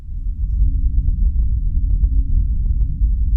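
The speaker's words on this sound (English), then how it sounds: "It has been described as a whirl, a hum, a buzz" A mysterious, unexplained hum of unknown origin: a steady, loud low drone and rumble fills the whole stretch, with faint, soft thumps scattered through it and no voices.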